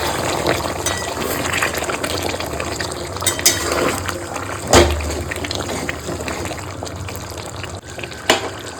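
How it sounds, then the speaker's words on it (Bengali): Hot water being poured into a pot of simmering chicken curry, a steady liquid splash and bubbling running throughout, close and fairly loud, with a few clattering pot knocks in between. "একটু গরম জল আমি দিয়ে দেবো অল্প একটু গরম জল দেবো"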